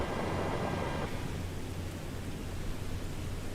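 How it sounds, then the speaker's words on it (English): Steady hiss of rain falling in Miami, a dense even wash of noise with a low rumble underneath, constant throughout. "Oh, it's freaking raining."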